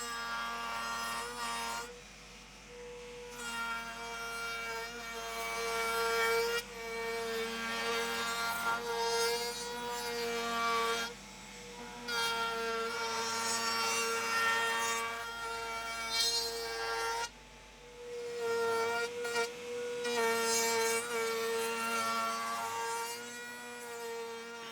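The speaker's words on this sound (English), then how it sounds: "Next I'll round over the edges with a 3/4 inch round over bit" A router fitted with a 3/4 inch round-over bit shapes the edges of wooden machine-stand legs, producing a sustained, whining cut that surges and dips over several passes at a moderate distance.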